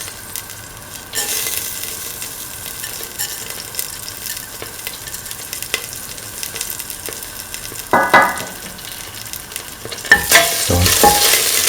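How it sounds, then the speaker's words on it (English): Fennel seeds crackle and sizzle in hot oil in a pan, with a constant frying hiss broken by scraping stirs and sharp bursts of spattering toward the end. "Put in the fennel seeds."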